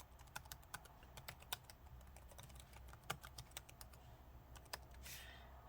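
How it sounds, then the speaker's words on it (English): Rapid, uneven keystrokes clatter on the keyboard of an HP Pavilion x360 14m-cd0003dx convertible laptop, with sharp close clicks and brief pauses and no talking. "I guess I can type the alphabet."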